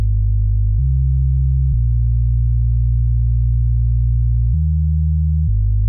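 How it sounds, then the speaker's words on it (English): Deep, droning sub-bass tones clash with a kick drum, holding and shifting pitch a few times, thick and buzzy, sounding muddy and crowded in the low end with no voices. "you will hear that the kick and sub bass are clashing"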